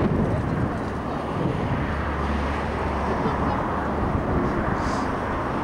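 A Transaero airliner passes overhead as a broad, steady roar of jet noise, loud and continuous outdoors with some wind buffeting.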